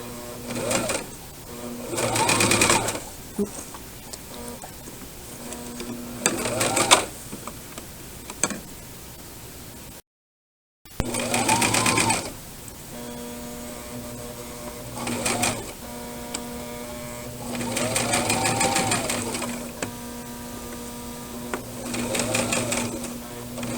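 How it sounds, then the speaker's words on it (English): A sewing machine back stitching a pillowcase runs in several bursts of rapid, rhythmic stitching, each lasting a second or two, with a steady whirring motor tone between them and a brief silent gap partway through. "I'm going to back stitch again."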